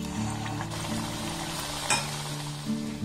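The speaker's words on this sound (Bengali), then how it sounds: "আর একইভাবে সবগুলোকে আমি ভেজে নেব" Flour jalebis deep-frying in hot oil give a steady, close sizzle with a soft low bubbling hum beneath, broken by a brief clink or scrape near the middle; no one speaks.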